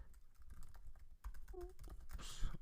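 Quick, light clicks of a computer keyboard patter unevenly in short bursts, quiet and close, with a brief faint tone in between.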